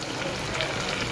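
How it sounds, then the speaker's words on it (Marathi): Chopped onion frying in a pan after garlic and curry leaves, a steady soft sizzle and crackle close by, continuous and even with one small pop near the end. "कांदा चांगला भाजला पाहिजे."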